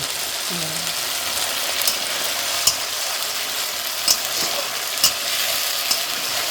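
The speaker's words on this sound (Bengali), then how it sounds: "মশলাটাকে কিছুক্ষণ ধরে একটু কষিয়ে নেব" Masala with tomato fries in a pan under a steady hiss, with a few sharp scraping clicks of a spatula stirring it at a moderate, close distance.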